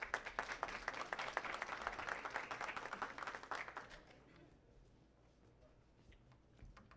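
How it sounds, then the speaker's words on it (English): An audience at a Brooklyn community board meeting applauds a police precinct captain, brisk clapping for about four seconds that then stops, leaving quiet room sound. "Everybody give Captain Dominguez a round of applause."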